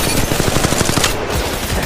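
Rapid automatic gunfire from the mobile battle royale game Apex Legends Mobile, a steady stream of loud shots running continuously through the whole stretch with no voices.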